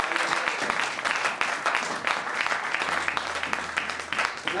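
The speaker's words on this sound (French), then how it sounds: "Est-ce qu'on peut acclamer la parole de l'Éternel?" Church congregation applauding together, a steady dense clatter of many hands, moderately loud and sustained throughout with a faint low hum beneath.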